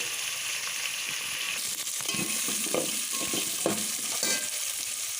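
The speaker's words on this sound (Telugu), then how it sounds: "గ్రీన్ బఠానీ ఇవి కొంచెం మగ్గనివ్వాలి" Green peas sizzle and fry in a pan, a steady hiss of frying broken by scraping stirring strokes, close and continuous without talk.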